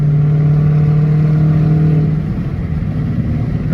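A catless Dodge Challenger R/T V8 rumbles loud and close with a deep droning exhaust tone, holding steady revs before easing off slightly.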